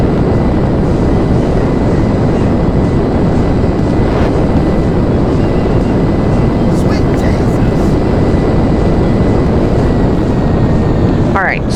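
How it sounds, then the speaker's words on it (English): A jet aircraft engine at Fort Zancudo in Grand Theft Auto roars steadily and loudly, a dense unbroken rumble throughout, with faint voices briefly audible over it. "Alright, so he turns the jet off, right?"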